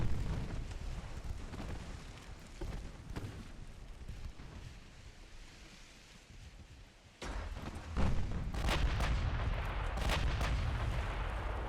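Heavy naval gunfire from warships in Ultimate Admiral Dreadnoughts, a rumbling barrage that drops to a lull and then returns louder with booming bursts near the end, with no talking.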